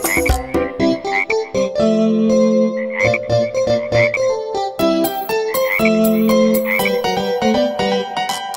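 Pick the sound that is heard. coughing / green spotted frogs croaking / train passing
green spotted frogs croaking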